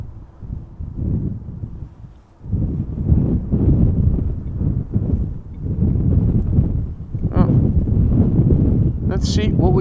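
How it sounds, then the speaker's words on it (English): Gusty wind buffets an outdoor microphone at Schiphol Airport, a loud low rumbling roar that surges and eases in waves, with brief higher whistles near the end. "Wind once again picking up momentarily, luckily."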